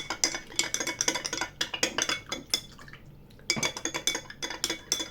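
Ingredients for a detox drink being mixed in a glass: rapid, rhythmic clinks and scrapes of a utensil against glass, with a brief pause midway before the stirring resumes, close and moderately loud, no voices.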